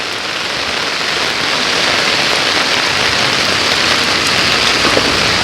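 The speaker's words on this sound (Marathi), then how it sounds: "कोकणातला पाऊस आहे मित्रांनो" Heavy monsoon rain pours steadily in the Konkan region, a dense, even hiss of drops drumming on surfaces with no voices.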